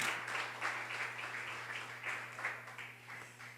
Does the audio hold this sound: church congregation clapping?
yes